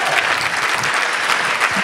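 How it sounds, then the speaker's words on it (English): An audience applauding steadily during a speech, dense clapping throughout with no pauses, fairly close and loud. "Clap for Jerry."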